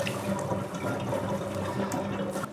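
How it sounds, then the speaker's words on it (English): Water drips and trickles steadily from a squeezed, soaked fursuit arm sleeve during a fursuit wash, a continuous close splashing patter with no talk. "if I just, well, squeeze, a bunch of water drips out"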